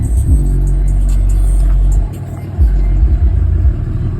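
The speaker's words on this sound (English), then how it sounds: "Can you give me some revs?" A Pontiac with its catalytic converters removed revs loudly nearby, a deep rumbling exhaust that surges, drops back briefly, then climbs again, with faint voices underneath.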